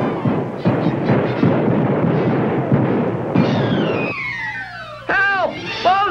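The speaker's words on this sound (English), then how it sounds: "Golly, sounds like gunshots." Gunshot sound effects from a children's TV circus show: sharp bangs followed by falling, whistling ricochet whines, loud and close, mixed with brief voices.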